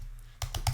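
A few sharp clicks of keys on a computer keyboard during a computer-security walkthrough, three distinct close taps in quick succession after a quiet start.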